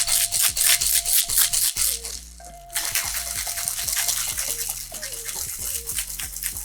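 A Mai Tai made with Pebble Life rum is whip shaken in a tin, giving a steady run of quick, loud rattling strokes with a brief pause midway, mixed with background music.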